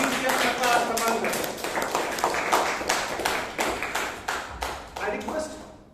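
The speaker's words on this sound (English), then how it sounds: "Please give a huge round of applause to DTM Dr." A small room of Toastmasters meeting members in Bangalore claps, distinct individual hand claps in a loose rhythm that gradually thin out and fade over several seconds.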